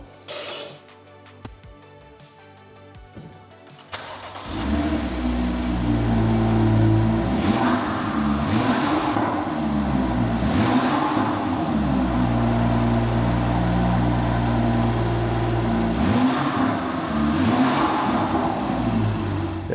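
A warm BMW M2 F87 engine with its exhaust pipe removed catches after a few seconds of clicking and then revs repeatedly, loud and close, with rising and falling pitch between idle stretches.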